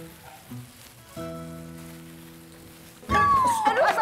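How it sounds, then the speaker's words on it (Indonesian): Food drops into hot cooking oil at a home stove and bursts into a loud crackling sizzle near the end, after quieter clatter and humming tones. "Ya udah, lo goreng dah tuh, ya."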